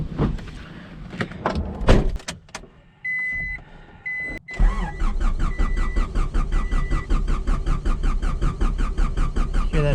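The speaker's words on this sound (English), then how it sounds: "Hear that new starter, baby?" Honda H22 engine in a Del Sol cranking on a new starter, after a few clicks and beeps, then catching and settling into a steady, rapid idle close by.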